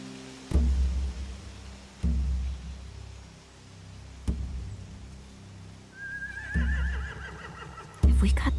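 Horses in The Walking Dead game whinny repeatedly, several sharp neighs at intervals with heavy thumps, a rising whistle-like whinny near the end, fairly close.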